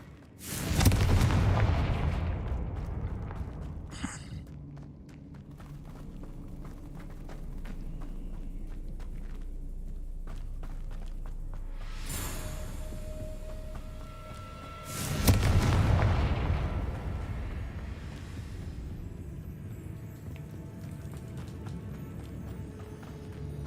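Fiery Confringo spell blasts in the Hogwarts Legacy video game, two heavy booming bursts roughly fifteen seconds apart, each decaying into a sustained low rumble between them.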